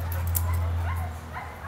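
An American bulldog whimpering and yipping in short, high, whiny bursts close by, over a steady low electrical hum.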